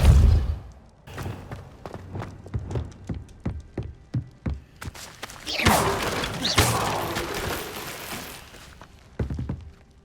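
Depulso push spell in Hogwarts Legacy knocking objects around: a string of sharp, evenly spaced thuds and knocks, followed by a louder burst of clattering and crashing debris, then a couple more hits.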